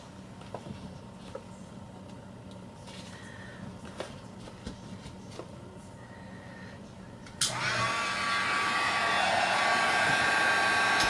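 A heat tool switches on partway through and blows a steady, loud roar as it dries Distress Oxide ink on card, following a stretch of quiet handling noises.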